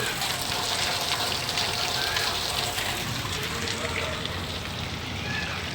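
Steady rain falls in a continuous broadband hiss, loud and close, with no gaps over the few seconds. It sounds like a heavy downpour pattering on nearby surfaces.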